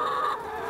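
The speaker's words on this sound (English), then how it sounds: "So these are the communal chickens now, and the trick is getting past them." Communal hens in a shared pen give a short, close run of clucking, a brief burst of fowl calls with no talking.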